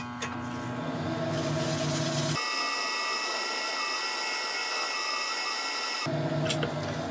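A 1000 grit Scotch pad rubbed against a spinning woodturning on the lathe, a steady abrasive hiss over the continuous motor hum, with the lathe noise dropping away in the middle stretch.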